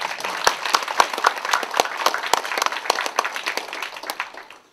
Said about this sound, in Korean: 정말 힘을 내시라고 격려의 박수, 응원의 박수 한번.